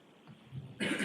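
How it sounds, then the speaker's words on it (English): A throat-clearing rumble builds into a sharp, harsh cough near the end in a courtroom during witness testimony at a murder trial, close and alone. "I can't hear you over the coughing."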